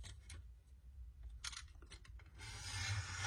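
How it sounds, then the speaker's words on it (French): A craft knife slices paper into narrow strips, making quiet scraping and rubbing strokes close by, a few brief scratchy cuts and then a longer rasping pass at the end, faint overall with no speech. "je vais prendre mon cutter et je vais découper des bandes"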